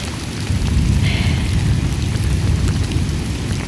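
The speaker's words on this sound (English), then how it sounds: "Still hailing a little bit, but right now it's just raining. It's thundering really bad." Steady, heavy rain pours during a Texas hailstorm, a dense close hiss with deep low rumbling of thunder beneath it throughout.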